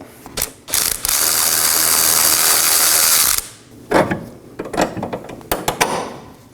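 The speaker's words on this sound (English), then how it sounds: "Now let's remove our bolt." A ratchet backs out a bolt on the rear wheel knuckle of a 2018-2024 Chevrolet Equinox: a loud continuous whir of rapid clicking for about three seconds, then scattered slower ratchet clicks and metal clanks up close.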